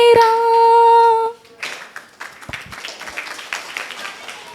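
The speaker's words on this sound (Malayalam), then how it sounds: "എല്ലാവരും കയ്യടിച്ചു" Audience in a reading workshop claps hands together, a dense patter of many claps spread over several seconds after a held sung note ends.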